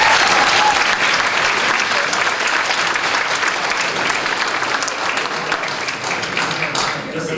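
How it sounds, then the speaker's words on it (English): Crowd at an anime convention opening ceremony applauds loudly and steadily, a thick wash of clapping that tapers slightly near the end. "maybe a big round of applause for that"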